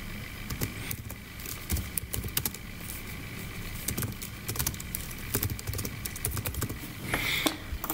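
Fast, uneven tapping of keys on a computer keyboard while a gift certificate name is entered, a steady run of light clicks close by with no talk over it.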